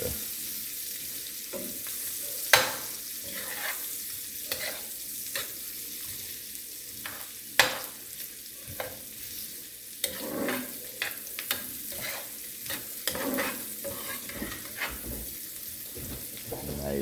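Onion, garlic and pimento fry in melted butter, a moderate sizzle under repeated clacks and scrapes of stirring, with occasional bursts of noise and no clear talk.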